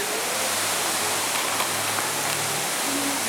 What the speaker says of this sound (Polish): A jakbyś nie widział to jest wodospad